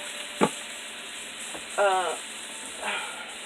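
Keto pumpkin spice granola sizzles in a pan with a low, steady hiss, broken by a brief clack. A voice speaks briefly in the middle.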